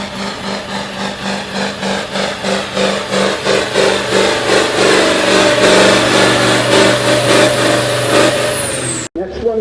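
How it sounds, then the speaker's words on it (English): A 9000 lb modified farm tractor at a 12 mph class pull in Platteville, Wisconsin, its engine loud and close, pulsing rhythmically then rising to a sustained heavy roar down the track before cutting off, with an announcer talking over it. "tractor coming to the line"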